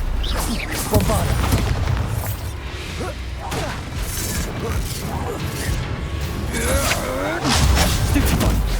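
Hogwarts Legacy spell duel with a Bombarda blast amid clanking, crashing combat effects and whooshes, a busy, continuous clatter of impacts and booms, with voices shouting over the action.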